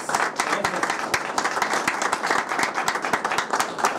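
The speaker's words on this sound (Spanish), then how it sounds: "Entonces vamos a recibirlo con un fuerte aplauso al señor Jeremy Farías." Applause at a football press conference in Monterrey, a room of people clapping steadily with distinct close hand claps standing out over the crowd.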